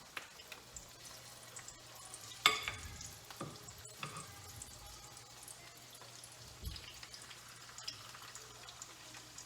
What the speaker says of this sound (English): then we'll let it fry until it gets nice and brown